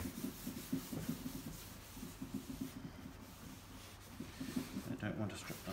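Cloth rubs in quick, repeated strokes over a VW Beetle engine lid, wiping away wet, stripped paint; the scrubbing comes in bursts with short pauses, close and moderately quiet.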